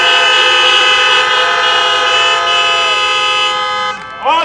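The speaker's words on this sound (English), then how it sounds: "So I want to hear just a round of honks for Mr. Hines' announcer voice." Many car horns honk together in a long sustained round at a school freshman welcome, loud and continuous, fading near the end before a last short toot.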